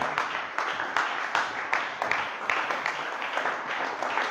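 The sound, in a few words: applause for God's holy name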